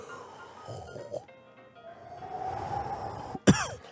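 A single sharp cough bursts out near the end, loud and close, following a stretch of low breathy blowing noises.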